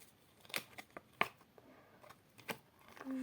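A pack of football trading cards is torn open, making a handful of sharp, quiet ripping and crinkling sounds in quick bursts, close by and with no talking.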